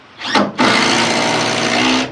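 A power drill driving screws into a custom horse stall cabinet: a short whirring burst, a brief pause, then a longer steady high motor whine, loud and close.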